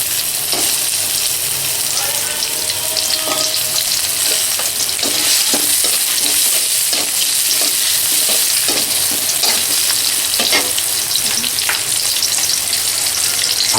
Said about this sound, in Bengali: তেলটা একটু গরম হইলে তার মধ্যে পেঁয়াজ কুচি দিয়ে একটু ভাজবো